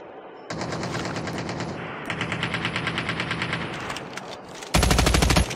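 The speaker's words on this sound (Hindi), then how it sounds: "मेरे पास तोप के गोले छोड़े वाली गन है भाई।" Rapid bursts of video game gunfire from a cannonball-shooting gun, fast repeated shots in several strings with short breaks, loud and close, ending in a heavier, denser burst.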